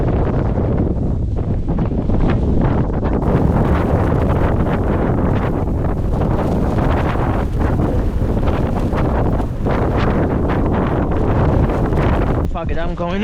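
Strong blizzard wind buffets the microphone nonstop at a snowy campsite beside an ultralight tent, a loud, roaring, close rumble that never lets up.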